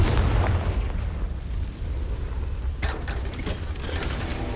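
Confringo spell explosion in the video game Hogwarts Legacy: a heavy boom opens, then a rumbling tail with a few sharp crackling bursts toward the end.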